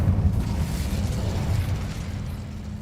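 A fiery Incendio spell blast in the Hogwarts Legacy video game, a dense roaring burst of crackling noise that fills the short clip and slowly tails off, with no talk.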